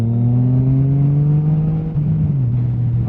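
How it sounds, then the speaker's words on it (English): A Yamaha MT-07 motorcycle's exhaust drones steadily on a group ride, recorded close from the rider's helmet, its tone rising slightly, then dipping briefly and recovering. "get some exhaust noise just from like the helmet"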